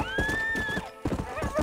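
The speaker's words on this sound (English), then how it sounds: "Oh, this horse is so much faster." Horse in Red Dead Redemption neighing with a long whinny while its hooves clatter at a gallop, a short loud burst with no talk.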